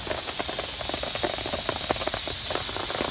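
Osso buco boiling in a pressure cooker over a high camp flame in the rain, giving a steady loud hiss of steam with rapid crackling pops throughout, no talking.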